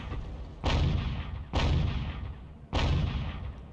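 Tank artillery cannon firing in an online vehicle combat game, three loud, booming shots roughly a second apart, each with a rumbling tail, with no talking.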